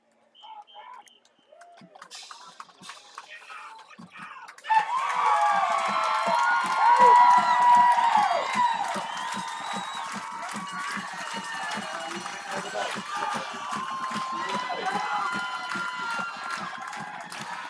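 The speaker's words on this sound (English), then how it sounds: "Let's give him a round of Hornets applause" Crowd applause and cheering for an injured player at an OHSAA Round 3 high school football playoff game between the Coal Grove Hornets and Loudonville Redbirds. A sustained, loud roar of cheers and clapping breaks out after a quieter opening and carries on under talk.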